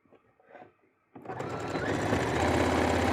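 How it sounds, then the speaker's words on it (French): A sewing machine stitching bias binding onto a bustier starts up after a few soft handling noises, then runs as a fast, steady, loud mechanical whirr right up close. "à coudre mon biais"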